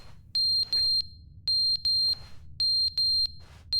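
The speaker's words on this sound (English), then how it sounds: "The smoke alarm and our heat alarm." Smoke alarm in The Stanley Parable: Ultra Deluxe beeping in a steady pattern of three shrill, clean electronic beeps repeated three times, loud and close over a faint low hum, with no speech.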